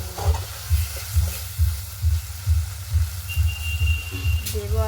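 Spiced masala with goat fat sizzling in hot oil, stirred in steady rhythmic strokes roughly every half second, close and continuous, with a faint whistle-like tone near the end.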